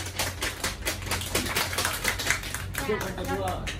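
A classroom of students breaks into dense, continuous applause, loud and close, with voices mixed in throughout.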